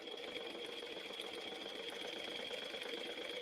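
A sewing machine runs continuously with a steady mechanical hum while basting stitches on an emoji circle bag, moderately close and even in level.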